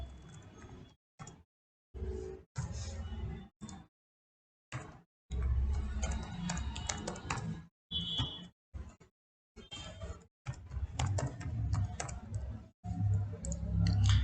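Keystrokes on a computer keyboard while an email ID is entered into an online registration form, coming as short bursts of clicks separated by pauses, close and fairly quiet.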